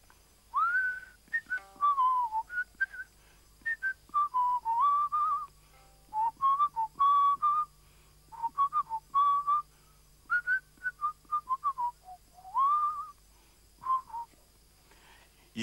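A man whistles a blues tune in clear phrases of bending notes separated by short pauses, close and fairly loud over a faint low hum.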